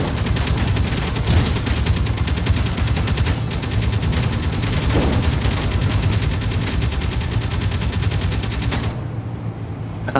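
Continuous heavy gunfire in a video game crossfire, with overlapping automatic weapons rattling loudly and without pause for about nine seconds before cutting off.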